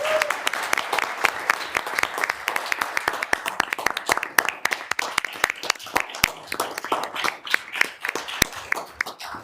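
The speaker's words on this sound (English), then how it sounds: "Let's please give them a round of applause." An audience applauds at a board meeting, a steady patter of many hands with sharper individual claps standing out, continuing for several seconds.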